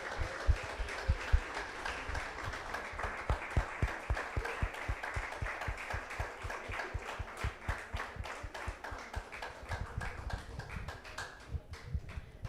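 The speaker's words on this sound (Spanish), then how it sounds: "les demos un fuerte aplauso a todos los papitos que hoy están aquí." A church congregation applauds the fathers present with brisk, sustained clapping. Many hands strike in a quick, fairly even rhythm that carries on steadily for several seconds.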